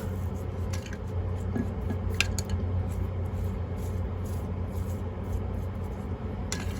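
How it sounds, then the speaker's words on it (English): A rubber stamp is rinsed under running water after use with acrylic paint, giving a steady close splashing rush with light clinks and rubbing against a sink, with no speech. "I'm gonna go ahead and rinse the stamp off."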